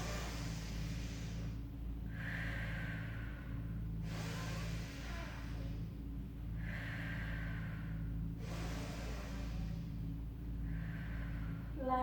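Slow, deep breaths during a rehabilitation Pilates exercise, with long inhales and exhales repeating about every two seconds, faint and close, over a low background hum.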